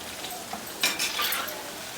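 Khoya gulab jamun being stirred while frying in a pan, with a brief scrape and clink of a utensil against the pan over a low steady frying hiss, no talk.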